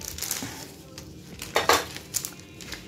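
Knife trimming the insert of a chocolate Yule log cake, light clinks and taps of metal against a tray or dish in a few scattered strikes, fairly close and quiet.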